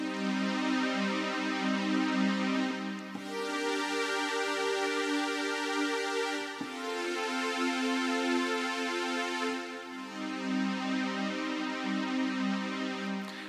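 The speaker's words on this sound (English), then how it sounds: "I used the MKS-70 for creating this pad sound" A Roland MKS-70 synth pad, a soft sustained chordal wash that shifts chords every few seconds, steady and fairly quiet with no voices.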